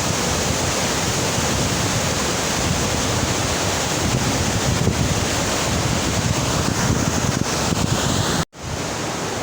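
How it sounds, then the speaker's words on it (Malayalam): Strong current of the Bharathapuzha river near Thrithala Velliyankallu, a loud, steady rushing roar of water with heavy wind buffeting the microphone, cutting off abruptly near the end. "അത്ര ശക്തമായിട്ടുള്ള കുത്തൊഴുക്കിലുള്ള വെള്ളമാണ് ഈ വന്നുകൊണ്ടിരിക്കുന്നത്."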